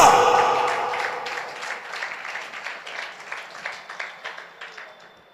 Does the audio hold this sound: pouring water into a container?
no